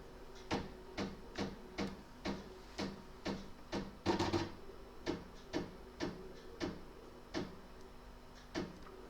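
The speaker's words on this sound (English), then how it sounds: "So I'm going to jog my needle now." Embroidery machine jogging its needle into position while making an in-the-hoop gnome keyring tag: a steady series of short mechanical clicks and taps at an even rhythm, close and clear, with one busier burst midway.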